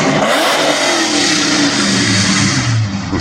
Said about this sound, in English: I keep hearing him rev it up out there.